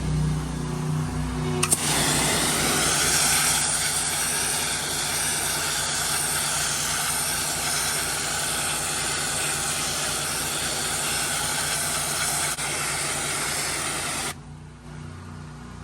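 A pressure washer blasts graffiti remover off a wall, a loud, steady hissing spray that starts abruptly, runs unbroken for about thirteen seconds, then cuts off.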